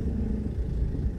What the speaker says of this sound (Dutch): En dan gaan we weer de auto starten. Dan gaan we weer even doorrijden.